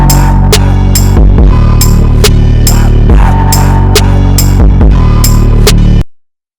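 Loud instrumental music track played back with the limiter off and the level pushed hard. A dense mix with a regular thumping beat runs for about six seconds, then cuts off abruptly into silence.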